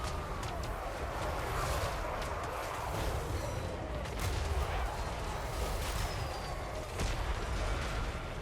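Firework explosions and battle noise in Total War: Warhammer 3, a continuous rumbling din of crackling blasts and booming impacts with sharp pops scattered throughout, dense and steady at moderate level.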